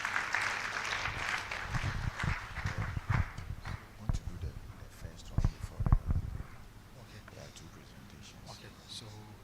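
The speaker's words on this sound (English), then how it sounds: "Let's welcome him with a round of applause." Applause welcoming a speaker at a college orientation programme, scattered and uneven clapping from an audience with some louder bursts in the middle that fades toward the end.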